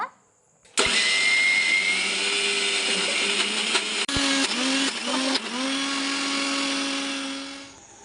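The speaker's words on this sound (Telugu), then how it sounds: "ఇలా మిక్సీ పట్టుకోవాలన్నమాట మెత్తగా రవ్వ రవ్వగా లేకుండా మెత్తగా మిక్సీ పట్టుకొని" An electric mixer grinder whirs loudly as it grinds soaked urad dal into smooth idli batter. It starts abruptly, runs steadily, changes pitch briefly in a few short bursts, then keeps droning.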